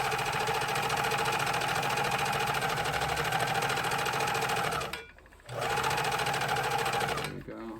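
Serger sewing machine stitching the edge of fabric for a cross-over apron: a steady, close, high-speed mechanical whir and rattle that stops briefly, restarts, then cuts off near the end.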